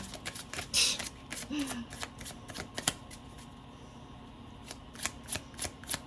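Playing cards shuffled and handled indoors, a run of crisp, fluttery riffles and taps with one louder burst of shuffling early on, then quieter sporadic snaps, close and fairly soft.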